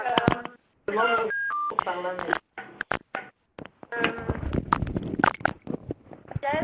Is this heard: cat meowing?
no